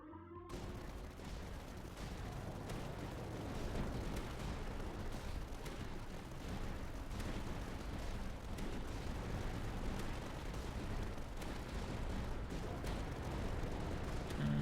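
Light mortars firing in the tower-defense game Tower Dominion, a steady barrage of rapid, overlapping blasts and thuds forming a dense, continuous fusillade at a moderate level after a brief quiet start.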